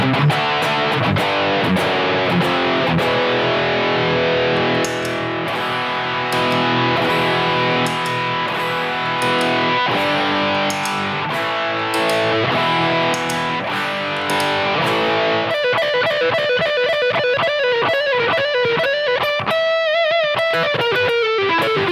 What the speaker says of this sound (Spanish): siempre he considerado esta distorsión un poquito maquillada